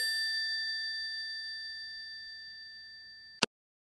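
A phone ringing in the Robocar Poli Rescue video game, heard as a single bright bell-like ding that rings out evenly for a few seconds, then cuts off abruptly after a final click.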